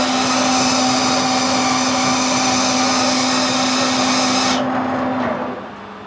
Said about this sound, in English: start the lathe up